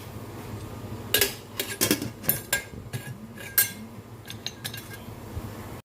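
A lid goes onto a pot of ginisang munggo with several metallic clinks and knocks, loud and close, spread over a few seconds against a quiet background.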